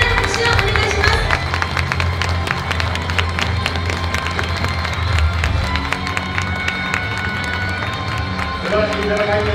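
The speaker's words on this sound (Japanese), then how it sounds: "大きな拍手をお願いします。" A crowd at a HATASHIAI fight event cheers and claps for the winner of the bout, a loud, dense wash of applause and shouting filling the whole stretch, with some voices and announcer talk mixed in.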